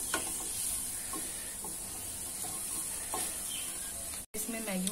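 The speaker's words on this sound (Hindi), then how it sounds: "इन सभी चीज़ों को अच्छे से मिक्स कर लेंगे।" Maggi noodles with vegetables sizzle in a pan while a spoon mixes in turmeric and red chili powder, a steady close frying hiss broken by a few soft scraping stirs.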